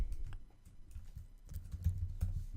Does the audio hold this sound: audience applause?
no